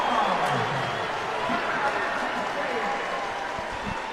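A basketball crowd at an NC State versus Penn State college game cheers and applauds steadily in a large arena, with a commentator talking over the sustained roar.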